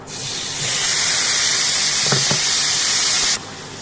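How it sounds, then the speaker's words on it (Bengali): Steady loud hiss of onion and garlic frying in hot oil left from frying fish, continuous sizzling that cuts off abruptly near the end, with a brief clink partway through. "এই মাছ ভাজার তেলে পেঁয়াজ আর এই রসুনটা দিয়ে একটু নাড়বো 2-3 মিনিট"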